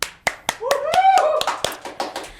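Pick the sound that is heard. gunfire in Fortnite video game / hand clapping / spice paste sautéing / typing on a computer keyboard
hand clapping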